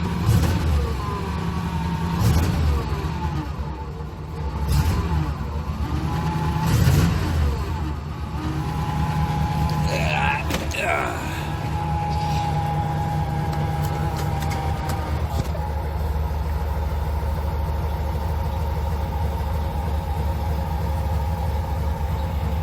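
A boxy older Chevy engine with a sticking idle air control valve runs close by, its rough idle swelling and dipping in uneven revs early on before settling into a steadier drone.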